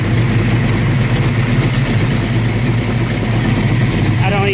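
A 1967 Corvette's 427 V8 engine idles steadily with a deep, constant rumble, loud and close throughout.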